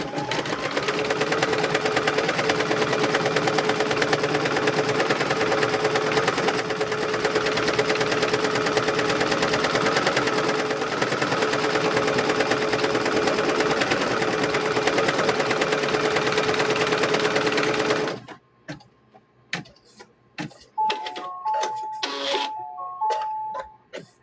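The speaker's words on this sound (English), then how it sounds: "it's going to stitch that center stitch and let you know where to put that next piece of fabric" Sewing machine stitching the center seam of a quilt square, a long steady mechanical whir running for about eighteen seconds, then stopping, followed by a few soft clicks and short electronic beeps.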